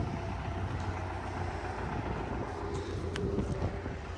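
A truck engine idles steadily and loudly nearby, a continuous low rumble on a farm site in Donetsk region where fertilizer is applied by the CULTAN method.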